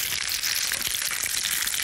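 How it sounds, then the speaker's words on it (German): Shallots sizzle steadily in a hot pan, a soft, even frying hiss with faint crackles, heard alone and fairly quiet. "Die Schalotten ein bisschen mit anbraten."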